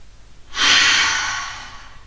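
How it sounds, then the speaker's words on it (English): A single deep breath goes out through the mouth in one close, breathy exhale that rises quickly and then slowly fades over about a second and a half. "One last deep breath all together and an exhale through the mouth."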